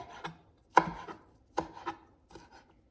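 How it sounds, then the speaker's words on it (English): A knife chops ingredients for Cal Mex salsa on a cutting board, a few sharp separate strikes close by and fairly quiet, with gaps between them. "Now I'm going to chop it"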